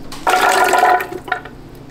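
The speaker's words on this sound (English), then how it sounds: "I'm adding alkaline water to mine." Alkaline water pouring from a container onto a cup of soaked cashews for a vegan recipe, a steady close splashing stream for about a second that tapers into a few small drips.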